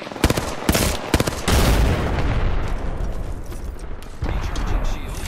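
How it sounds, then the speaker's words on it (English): Shooter video game combat with bursts of gunfire and booming explosions, sharp shots in the first seconds giving way to a sustained heavy rumble of fire and blasts, loud and close. "The enemies are shooting at me."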